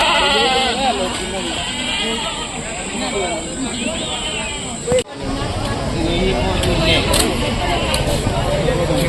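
Goats bleating repeatedly at a sheep and goat livestock market, loud wavering calls overlapping amid crowd chatter and people talking nearby.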